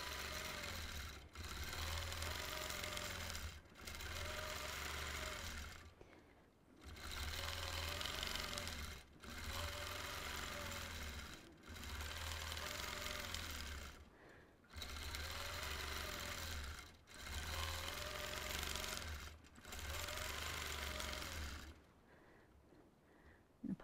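A sewing machine stitches freehand quilting in an orange peel pattern, running in loud, steady bursts of a few seconds each, separated by short stops.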